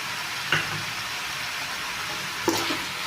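Chicken fry sizzling and hissing in a pan after salt is added, a steady frying hiss with two brief scraping stirs of a spoon.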